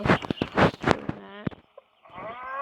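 A cow lows loudly in the Stardew Valley farming game, a single drawn-out moo after a burst of other farm animal calls.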